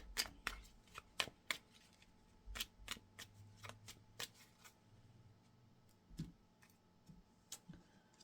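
Tarot cards shuffled and handled on a table, giving a string of sharp card riffles and flicks at irregular intervals, close and fairly quiet, with no talking.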